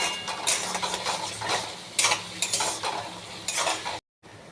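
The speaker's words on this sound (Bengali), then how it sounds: "এবার এটা ভালো করে কষাবো।" Spices and potatoes being stir-fried in a pan, with repeated scraping strokes of a spoon and a steady sizzle, close and moderately loud, ending with a short silence.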